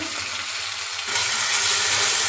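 Ginger, cumin, coriander and turmeric powder with tomato fry in oil in a pan, a loud close hiss that swells brighter partway through as the mix is stirred, with no talking.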